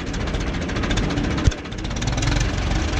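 An Ursus C-360 tractor engine runs steadily with a rough low rumble and a brief thump midway, no talking.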